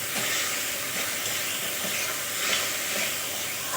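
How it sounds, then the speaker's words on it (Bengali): Tomato paste being stirred into fried ginger and garlic in a pan for a fish curry, a dense, continuous hissing sizzle with soft stirring scrapes, close and steady, no voices. "এখন আমি দিয়ে দেবো একটা টমেটোর পেস্ট। আবারও আমি মিশিয়ে নেব।"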